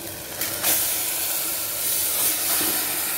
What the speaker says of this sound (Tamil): நான் 3/4 கிலோ போல் மட்டன் ஆட் பண்ணியிருக்கேன்